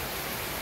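Heavy rain pours down steadily on an afternoon, a dense, even broadband hiss with no voices, the downpour keeping a cyclist stranded.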